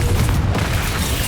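A Confringo spell explosion in Hogwarts Legacy, heard as a dense, rumbling boom that fills the whole brief moment without a clear start or finish.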